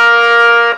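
A harmonium sounding in its middle octave, a short steady reed chord held clearly and loudly before cutting off, with no talk.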